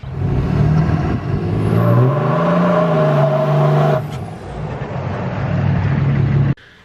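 A tuned 6.7 Cummins diesel truck engine with the EGR deleted revs up loudly nearby, its pitch rising and falling with a whistling turbo-like whine, then dropping back to a rough idle before cutting off abruptly.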